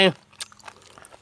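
Someone bites into crunchy cooked field snails: a brief vocal sound opens, then small crisp crunches and chewing follow, close but faint.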